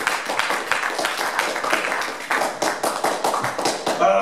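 Pentecostal church congregation applauding strongly, a sustained wash of many hands clapping, close and loud, with a few sharper individual claps standing out.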